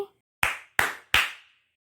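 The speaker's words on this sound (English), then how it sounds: "Let's clap 3 times for 3." Three crisp hand claps spaced evenly about a third of a second apart, close and clean against silence, each with a short decaying ring, during a counting song for kids.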